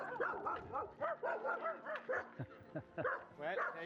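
A dog on an Arctic trek yips and barks in quick bursts, with whiny rising cries, close by and mixed with excited human talk.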